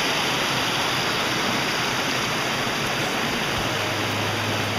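A creek pours steadily through a tight canyon below a campsite near Turkey Falls, a dense, constant broadband rush of water that holds loud and even throughout, with no voices.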